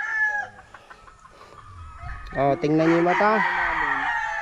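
A young gamefowl stag clucks in short bursts, then crows loudly and close in a drawn-out, wavering call, with someone speaking briefly just before the crow.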